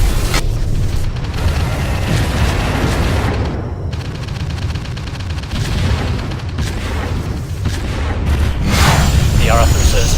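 Naval batteries fire in an audio drama battle, a dense continuous barrage of booms and explosions with rumbling low end, heavy throughout and swelling again toward the end, with voices shouting over it.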